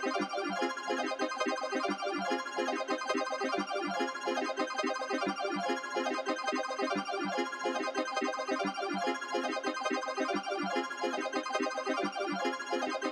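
A chopped chord sample in a bouncy trap beat, loud, dense stacked chords retriggered in a steady rhythmic pattern, playing alone with no voices.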